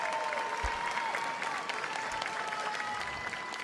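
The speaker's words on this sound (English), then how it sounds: "Please, let's all give a round of applause for the president of the Miss Universe organization, the incredible Paula Shugart." Audience applause at the Miss Universe 2020 preliminary competition for organization president Paula Shugart, a dense sustained clapping from a large crowd that stays steady and loud throughout, with no voices on top.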